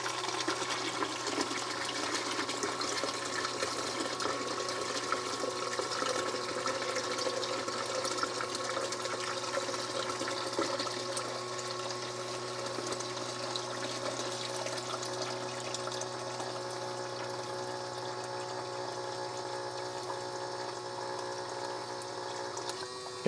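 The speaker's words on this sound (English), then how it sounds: "as you can hear, the pump is running" A battery-operated ValueMax transfer pump pumps fuel into a one-gallon jug, giving a steady, continuous whir and liquid rush that holds at an even level throughout, with no talking.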